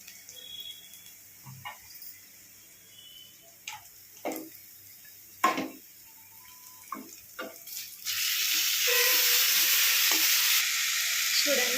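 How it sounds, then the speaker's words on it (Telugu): Chicken being stirred in a pan with spoon scrapes and clinks across several seconds, then a louder continuous frying hiss takes over near the end, no talking. "చూడండి చికెన్ వేసుకొని ఇలా మంచిగా కలబెట్టుకోవాలి"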